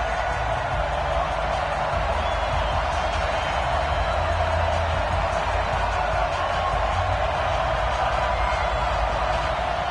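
Stadium crowd roaring steadily in an EA Sports NFL football game between the New Orleans Saints and the Buffalo Bills, a continuous loud wash of cheering with no break.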